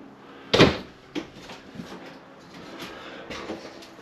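An RV door swinging open or shut inside a 2022 Wolf Pack 23 Gold 15 toy hauler travel trailer, one sharp, loud knock followed by a few softer bumps and clicks, with no speech.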